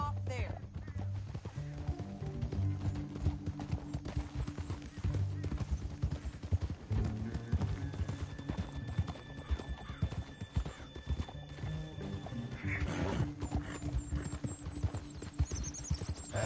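Horse hooves pounding in a steady galloping rhythm in Red Dead Redemption 2, continuous and close under game music, with a horse whinny and someone speaking briefly.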